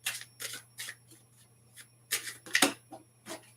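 Playing cards shuffled by hand, a series of short papery riffles and flutters in quick bursts with brief pauses, close and fairly quiet over a steady low electrical hum.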